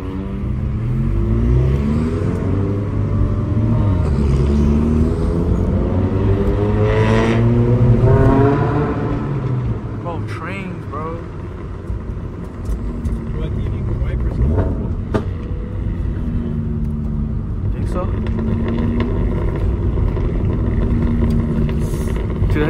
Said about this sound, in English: Dude, this thing is burbling like crazy, bro.